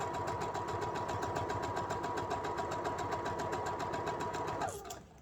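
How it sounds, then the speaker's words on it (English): A sewing machine runs a quarter-inch seam along a strip of a postage stamp wall-hanging quilt, a fast even needle rattle and motor hum held steady until it stops abruptly near the end. "you just sew your piece"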